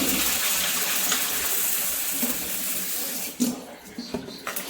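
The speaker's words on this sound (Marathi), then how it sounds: "आता आपण ज्वारी धुवून घेऊ।" Sorghum (jowar) grains are washed in water in a kitchen, with continuous sloshing and splashing that turns into a few sharper splashes near the end.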